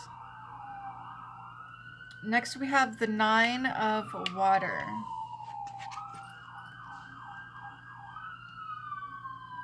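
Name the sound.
emergency vehicle sirens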